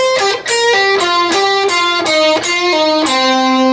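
An electric guitar plays a moderate-tempo lick with pull-offs and alternate picking, each note sharply attacked and sustained, loud and close with no talking.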